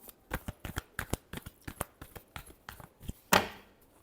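Tarot cards shuffled by hand in a last shuffle: a quiet run of quick, crisp card slaps and riffles in an irregular rhythm, ending with one louder, sharper burst, close up and with no talking.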